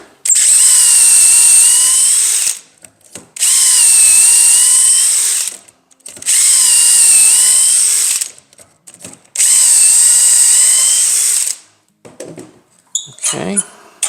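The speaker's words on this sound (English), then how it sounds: "All right, let's drill our holes." A power drill bores dowel holes through a Dowelmax jig in four loud, even whining bursts of a few seconds each, separated by short pauses, followed by light clattering handling noise.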